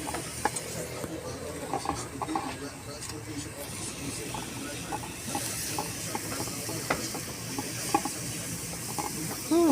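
Tiny shrimp and egg sauté in a hot pan, giving a steady sizzling hiss with scraping and stirring clatter, while people talk throughout.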